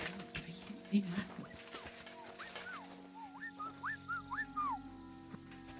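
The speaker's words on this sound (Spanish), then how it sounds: "Era un guardia silbador." A guard in a video game whistles a run of short, rising, chirpy notes, close and fairly clear over low background game sounds and earlier clatter.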